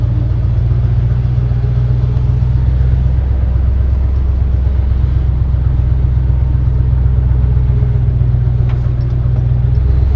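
A car close by, loud and steady as it accelerates with a deep continuous engine rumble, a slight dip midway as a gear shift passes, no voices over it.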